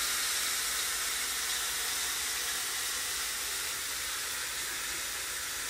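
Cubed pork frying in hot oil on a stovetop set to medium-high, giving a steady, even sizzle and hiss that holds at one level throughout, with no talking.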